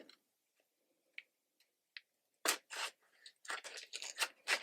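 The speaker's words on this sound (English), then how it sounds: "I actually take scissors down the side, not the end, and usually you can pop it." Scissors slice down the side of a cardboard shipping box, a few faint ticks and snips first, then a run of loud, close crunching scrapes as the cardboard splits and pops open.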